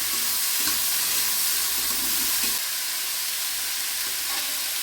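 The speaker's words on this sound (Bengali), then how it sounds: "মোচাগুলো দিয়ে ভালো করে ভাজতে হবে এবার" Chopped banana flower (mocha) frying and being stirred in a pan for a homestyle vegetarian mocha ghonto, with a steady broadband sizzle and occasional scraping stirs that ease off slightly partway through.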